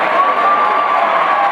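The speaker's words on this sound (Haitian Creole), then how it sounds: "On nous applaudit, mesdames, messieurs." Graduation audience applauding, a dense, loud, continuous wash of clapping from a large crowd with a faint murmur of voices underneath.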